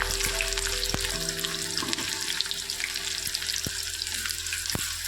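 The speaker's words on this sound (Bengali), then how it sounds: "এবার ফোড়নটা যখন হয়ে গেছে তখন পেঁয়াজ কুচোটা ছেড়ে দেবো।" Chopped onion goes into hot oil with tempered spices for mutton keema, sending up a loud, continuous close sizzle over a faint steady hum.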